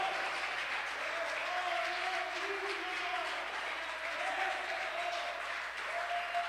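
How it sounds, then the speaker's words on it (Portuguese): A church congregation applauds steadily and enthusiastically, sustained clapping filling the room at moderate distance, with faint vocal tones from the front underneath. "Se for para o Senhor, aplauda bem forte o nome dele."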